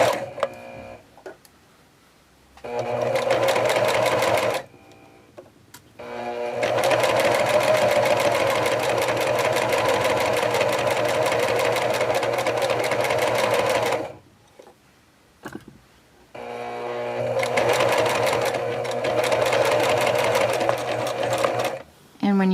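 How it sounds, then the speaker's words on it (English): Sewing machine running a straight stitch, a rapid steady mechanical chatter in three long runs separated by short pauses, close and fairly loud. "I have it on a straight stitch, and I'm going to go back and forward for a couple of stitches just like normal to secure that"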